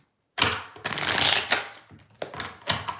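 Tarot cards being shuffled by hand, several quick riffling bursts close up, crisp papery flutters separated by brief pauses, with no talk.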